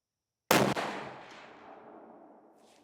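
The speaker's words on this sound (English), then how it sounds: "Let's shoot 2 more and see what that group looks like." A single CVA Cascade rifle shot fired at a target outdoors, one sharp loud crack followed by a fading rumble and echo, with no talking.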